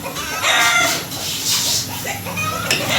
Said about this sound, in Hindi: मुर्गी बोल रही है